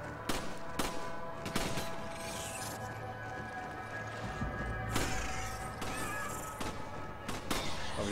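Sporadic gunshots from the video game Resident Evil 5, a few sharp reports spaced across a busy, constant game soundscape, moderately loud and mixed with background noise.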